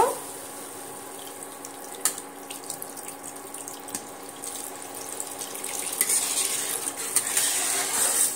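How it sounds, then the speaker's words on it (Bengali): Water poured into a pot of egg biryani curry during cooking, a faint continuous pouring and splashing with light clinks of a spoon or utensil against the pot, growing slightly louder toward the end. "এবার আমি তরকারির জন্য একেবারে পানিটা দিয়ে দেব।"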